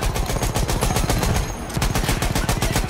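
Rapid, loud automatic gunfire in a war video game set in the First World War, continuous machine-gun bursts with a brief dip before firing resumes, close and dense.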